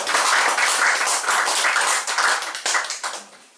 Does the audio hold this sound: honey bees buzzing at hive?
no